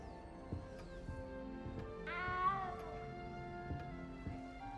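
A cat meows in Hogwarts Legacy, one clear rising and falling call partway through, heard over a steady musical game background with faint thuds.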